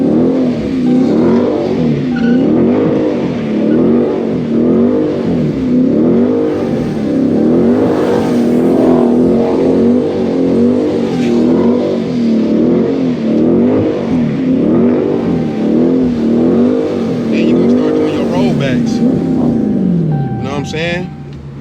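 A Dodge Scat Pack's engine revs and surges repeatedly as the car slides, a loud throaty rise and fall in waves for about twenty seconds, with someone talking over it.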